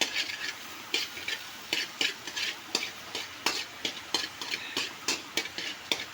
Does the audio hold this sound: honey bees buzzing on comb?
no